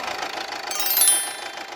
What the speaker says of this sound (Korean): 일단 엔진 소리부터 한번 들어보도록 하겠습니다